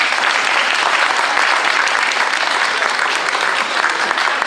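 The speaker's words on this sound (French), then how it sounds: "On va tous les applaudir." Loud, dense applause from a large crowd at the inauguration of the Promocash store in Metz, steady and sustained throughout with no pauses.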